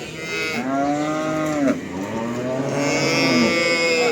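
A Simmental bull calf at a cattle market lets out two long, drawn-out moos, loud and close, with faint market bustle behind.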